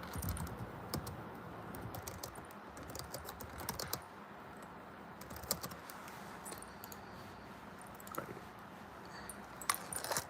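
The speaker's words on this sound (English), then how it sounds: "Hold on, I'm typing something, my bad." Fast, irregular clicking of keys on a computer keyboard, quiet and close, with bursts of keystrokes and brief pauses over a low background hiss.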